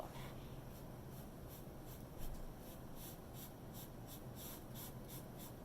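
Sharpie marker drawing slow lines on a paper Greek vase design, a faint repeated scratchy stroking that comes in short regular passes, close and quiet with no talk.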